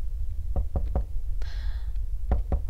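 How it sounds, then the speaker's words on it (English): Knocking on a door in the horror video game Dark Hotel: two sets of three firm, hollow knocks separated by a brief pause, heard close over a quiet low hum. "Don't you be knocking."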